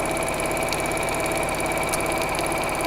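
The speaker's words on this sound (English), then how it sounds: "just sewing in straight lines" A sewing machine runs steadily through straight lines of stitching, a continuous close mechanical whir with a fine rapid rhythmic clatter and no pauses.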